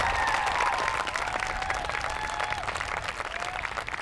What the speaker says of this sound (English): Please give her a round of applause for coordinating this.